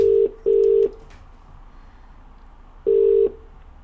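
A phone call's ringing tone plays through an Earfun UBOOM portable speaker as clean, steady electronic beeps: two short tones in quick succession, a longer pause, then one more tone, with quiet background otherwise.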